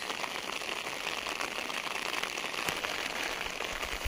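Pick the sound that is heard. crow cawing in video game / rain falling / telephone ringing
rain falling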